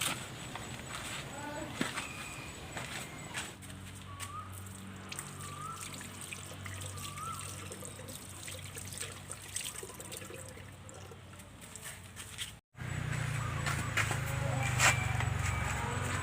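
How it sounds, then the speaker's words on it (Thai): Tap water runs and trickles steadily while hands are washed. A voice speaks nearby, and a deeper, louder gush of water comes in near the end. "ไปล้างมือกันก่อนดีกว่า เพื่อความสะอาด"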